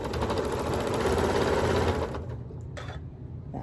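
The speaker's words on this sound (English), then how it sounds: "I'm just going to put my foot down, and I'm just going to start stitching" A sewing machine stitches rag quilt fabric blocks with a steady, close, rapid whirring that eases off near the end, followed by a brief faint rustle.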